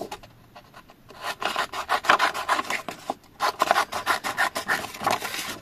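Paper being cut out by hand for a scrapbook card, a steady run of short rasping snips and rubs in quick bursts with a brief pause partway through, close and fairly quiet, no talking.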